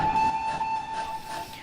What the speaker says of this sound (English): this is the Steam Sound Supreme enhanced version of the Falmouth Pannier tank